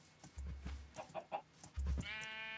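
Cows in Minecraft, the blocky sandbox video game, lowing in a grassy plains area: a couple of short, nasal moos close by, with a more drawn-out call near the end.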